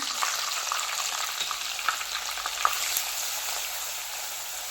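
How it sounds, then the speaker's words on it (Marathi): Curry leaves, ginger and garlic fry in oil for a Marathi pavta amti, giving a dense, steady sizzle with crackling pops and light stirring scrapes scattered throughout. The sound is close and continuous, and no voice is present. "कढीपत्ता मी छान भाजला की लगेच आलं लसूण"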